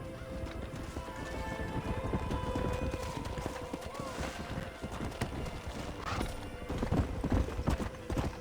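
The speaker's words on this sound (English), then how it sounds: "riding a horse like that" Horse hooves clip-clop steadily on hard ground, close by, with a horse whinnying partway through.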